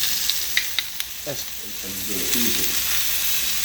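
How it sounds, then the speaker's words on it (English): Onions, mushrooms, salami, green onions and red, green and yellow peppers fry in a pan with a loud, steady close sizzle, and a few utensil clicks and scrapes come first. "I'll be frying that all right now."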